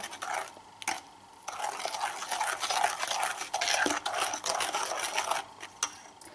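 Steady scraping and swishing of a spoon stirring thick batter of sour cream and baking soda in a bowl, continuous with brief pauses, close and fairly loud.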